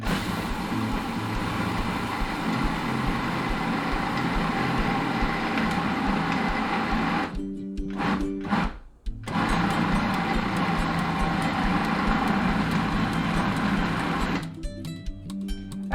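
Electric mixer whirring steadily through cheesecake batter with added sugar, a continuous close motorized drone that briefly cuts out twice, then runs on.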